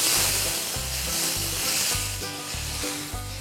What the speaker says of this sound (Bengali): প্রায় 2 টেবিল স্পুন ময়দা দিয়ে একটু ভাজা ভাজা করে এর মধ্যে আমি ঢেলে দেব পানি